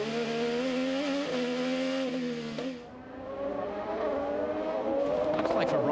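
IndyCar race cars at the 2015 Chevrolet Dual in Detroit, engines wailing and shifting pitch as they race past, loud and continuous with rising revs near the end, under a commentator's voice.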